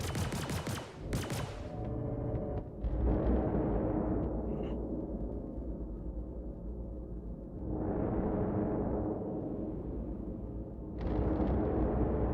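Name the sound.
missile explosion from a video game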